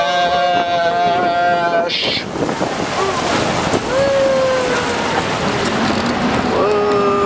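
An amphibious duck tour boat in Boston rolls into the Charles River amid heavy wind buffeting and rushing water, with background voices and faint whistle-like tones rising above the roar.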